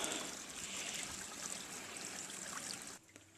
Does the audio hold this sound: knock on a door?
no